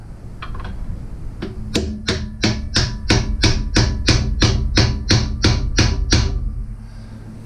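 A big hammer pounds metal in a fast, even series of about fifteen sharp, ringing strikes, close and loud, after a few lighter taps, while replacing Jeep TJ front upper control arm bushings.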